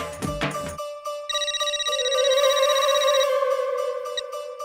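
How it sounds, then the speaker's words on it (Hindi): A phone ringtone chimes close by, a melodic electronic ring that repeats briefly after a short burst of music at the start. "मेहता सबका फोन है, मैं अटेंड करता हूँ, तुम तैयार हो जाना"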